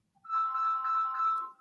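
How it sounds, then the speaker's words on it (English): A mobile phone ringtone plays one steady melodic tone of about a second and a half, clear and fairly loud against a quiet background with no talking. "That's my phone."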